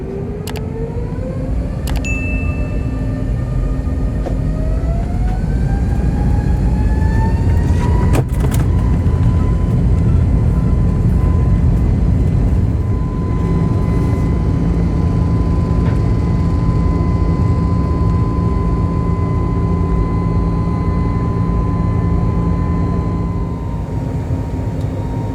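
Inside the cabin of a China Eastern COMAC C919 airliner during its climb: a constant loud roar of engines and airflow, with a tone gliding upward early on and then holding steady, no talk.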